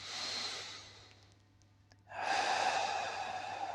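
A slow, deep breath during a diaphragmatic breathing exercise: an airy inhale fades to near-silence, then a strong, steady exhale is released close to the mic.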